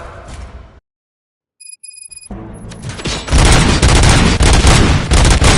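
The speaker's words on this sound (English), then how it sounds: "Gunshots? What's going on?" Rapid, heavy gunfire in the film Robocop, preceded by a few electronic beeps, then bursting into a loud, dense, continuous volley of shots and booms.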